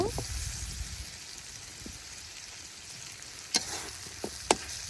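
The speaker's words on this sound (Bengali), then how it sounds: "আলু আর মশলাটা খুব ভালোভাবে কষিয়ে নেই।" Potatoes and spices being sautéed with meat in a pan in a village kitchen. A steady, soft sizzle runs throughout, with a few sharp clinks and scrapes of stirring near the end.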